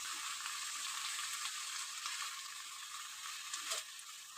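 Chopped fenugreek greens, cooked with eggplant, sizzle and crackle steadily as they are stirred and fried in a pan, a close, continuous hiss with faint scraping throughout.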